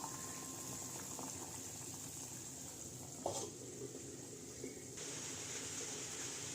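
Masoor dal simmering covered over a low-to-medium gas flame, a soft continuous bubbling hiss with faint gentle pops, quiet and even throughout.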